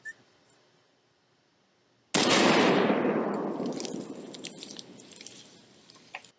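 A deer rifle fires once during a hunt, a sudden loud blast that rolls away in a long echo through open ground, followed by faint rustling and a small thump.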